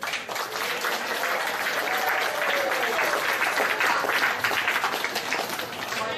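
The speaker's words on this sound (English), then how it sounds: "we would like to give all our kids a big round of applause" Audience applause for the children at a Shaolin Kung Fu and Tai Chi school's fourth anniversary celebration, a steady, dense wash of clapping from a sizable crowd that holds at an even level throughout.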